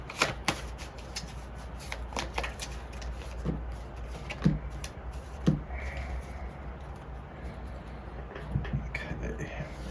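Tarot and oracle cards being shuffled by hand, soft riffling and papery slides with a few sharper taps, fairly quiet over a low room hum.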